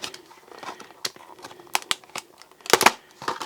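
A ToughBuilt scraper utility knife slicing through material, heard as close, scattered crisp snips and scraping ticks with a denser burst of cutting near the end.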